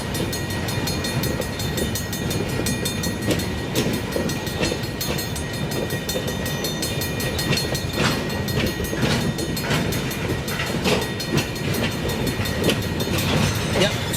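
A freight train with blue tanker cars rolls past steadily with continuous rumbling and rhythmic clacking of wheels over rail joints, heard fairly close without talk.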